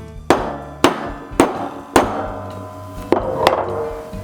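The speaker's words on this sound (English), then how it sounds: "then I take a nice heavy hammer and a couple firm hammer" Six heavy metallic hammer blows strike a disc cutter punch one after another at a steady pace, each sharp strike ringing briefly with no one speaking.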